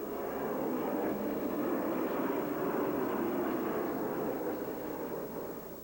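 A Harrier jet's engine gives a steady, loud, broadband roar for several seconds and eases off slightly at the end.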